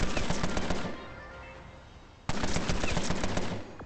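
Automatic gunfire from the video game Empire of Sin, with rapid close bursts from a shotgun and machine gun that pause for about a second before another loud burst resumes.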